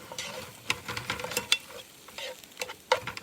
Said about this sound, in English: now I'm gonna put my shrimps in